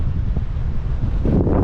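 Strong wind buffets the microphone on an exposed mountain overlook, a constant low roaring rumble with gusts, close and loud throughout.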